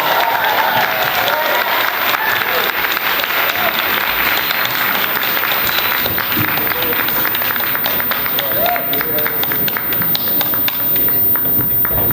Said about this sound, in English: Can we have one more round of applause for Vandy Tall, please?